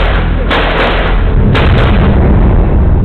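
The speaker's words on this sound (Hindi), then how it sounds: "एंड देन सडनली हमें फिर से आवाज सुनाई दी गन फायर की।" Gunfire in a film depicting the 26/11 Mumbai attack: loud, dense, continuous booming bursts filling the soundtrack, with a couple of sharp cracks standing out.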